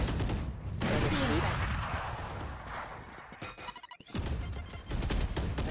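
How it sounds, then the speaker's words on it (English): Grenades and gunfire burst repeatedly during a Valorant tournament match, with dense explosive cracks and rumbling impacts filling most of the stretch and a brief dip near the end before the blasts resume. "as you hear the nades being exchanged, nearly making that one work"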